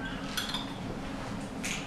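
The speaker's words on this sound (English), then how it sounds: "Why you gonna dip your spoon back in?" A spoon clinking against a glass baby food jar, two or three light, close taps over quiet background.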